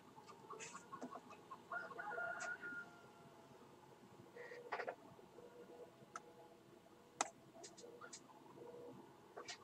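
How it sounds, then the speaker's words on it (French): A chicken clucks in the farming game Farming Simulator 17, with scattered short clucks and squawks over quiet background, plus a few sharp clicks. "D'accord, la poule."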